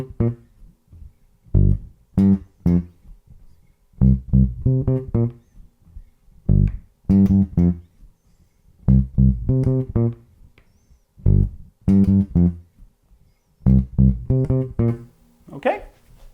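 Bass guitar line fretted with only the first and fourth fingers, short plucked notes in rhythmic funky groups separated by brief pauses, played close and clear with no talking.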